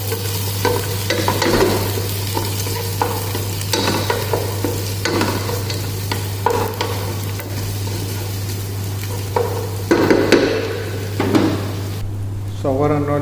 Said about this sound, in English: So our onion already sauteed.